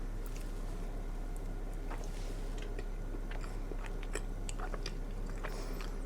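Someone takes bites of a soft, fluffy cream bun filled with custard, producing faint, intermittent soft chewing and mouth sounds over a quiet room hum.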